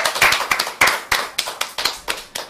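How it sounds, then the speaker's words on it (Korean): Rhythmic audience clapping during a Korean broadcast with a guest politician, about ten sharp, evenly spaced claps close by, with no talking over them. "여러분들 박수 한번 쳐주면서"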